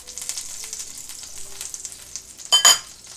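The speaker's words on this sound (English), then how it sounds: "we're getting ready to fry them up. You're gonna put some of that good old butter in your frying pan" Keto salmon cakes fry in butter in a pan with a soft, steady sizzle throughout, then a louder hiss bursts up near the end.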